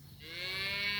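A cow in a yard being grazed down moos once, a single long, close, rising bellow that holds to the end with no talk over it.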